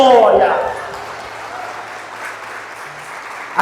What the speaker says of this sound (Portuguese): Se for para Deus essas palmas, tem que ser umas palmas corridas